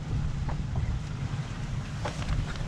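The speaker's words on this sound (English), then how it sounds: "The wind finally picked up." Steady wind buffets the microphone aboard a sailboat under way at 16 knots, with a low, constant rumble and rushing water beneath it and no voices.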